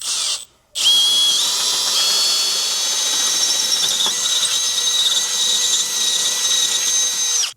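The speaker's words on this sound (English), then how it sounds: "now I'm going to come back through with my 1/2-inch drill bit and get these holes widened out" A power drill with a 1/2-inch bit widens holes in metal while a base plate kit is fitted to a 2025 Jeep Grand Cherokee. It gives a loud, close, steady high-pitched whine and squeal after a brief pause at the start.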